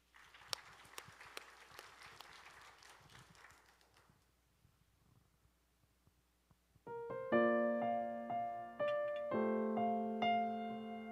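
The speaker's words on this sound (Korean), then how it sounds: "우리 박수로 맞이합니다." A church congregation claps for about four seconds, a loose mid-level round of applause that fades into quiet, after which piano or keyboard music begins.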